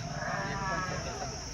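Madgyal sheep bleat at a livestock market, with one wavering bleat rising above a busy background murmur that carries faint voices.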